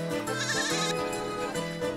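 A goat bleats close by, a loud wavering call with a quieter trailing bleat, heard alone without any talking.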